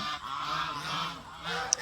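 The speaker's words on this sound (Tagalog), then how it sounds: "Yung aking mga pato, gansa." Geese on a farm before a typhoon, honking in a few close, nasal calls over a low background of other farm noise, with no talk.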